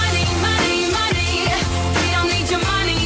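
A short excerpt of a pop song, with steady rhythmic beat and layered vocals and instruments, loud and continuous.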